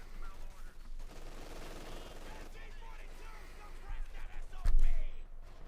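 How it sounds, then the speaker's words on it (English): Machine gun fire in the Company of Heroes 2 video game, heard as dense rapid bursts and distant battle rumble under a commentator's voice, ending in a louder thump. "Prodigy's machine gun there"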